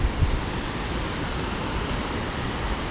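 A river swollen by heavy rain near Santo Antônio do Pinhal rushes in a dense, steady roar, loud and continuous, with no talking.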